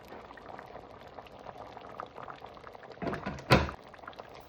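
A covered pot of Jamaican stew peas with smoked turkey neck and pigtail bubbles at a steady boil, a continuous simmering burble with a brief louder clatter near the end, like a lid knocking.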